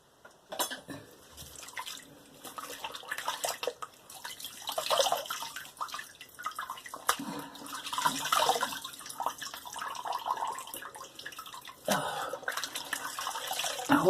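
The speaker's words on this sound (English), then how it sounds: "I'm going to rinse my face." Water splashes and runs at a bathroom sink as a face is rinsed after a shave. Irregular splashes and trickles come close, with brief quiet gaps between handfuls.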